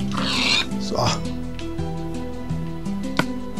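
Pig oinking in Minecraft, short grunts over steady game music, with someone talking in German throughout.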